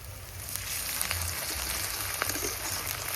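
Chopped onion, ginger and garlic fry in a pan with bay leaf, giving a steady, close sizzle and crackle with no talking.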